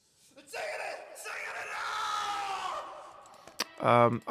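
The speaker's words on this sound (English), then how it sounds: "There's like a scream in the background" A long, drawn-out human scream sits in a song's mix, held for a few seconds before fading, followed by brief clicks and a short voiced burst at the end.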